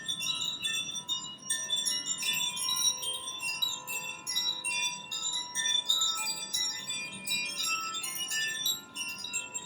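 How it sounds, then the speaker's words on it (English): Tinkling, bell-like music played as a mindfulness aid during a calming chair yoga session, a steady shimmer of overlapping chimes and bright struck tones sounding continuously at moderate level with no talking. "Sounds of the tinkling music acts as a distractor."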